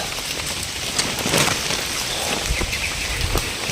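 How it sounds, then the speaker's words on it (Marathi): Rain falls steadily during a walk through farm fields, a continuous close hiss with scattered drops and faint birds or ducks in the background. "पाऊस पण चालू झाला आहे"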